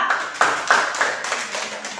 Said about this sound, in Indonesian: Sekali lagi tepuk tangan untuk kelompok 2.